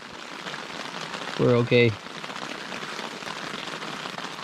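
Steady rain patters on a surface at a wilderness campsite in the Yukon during a solo canoe trip, a constant wash throughout, with a person briefly speaking near the middle.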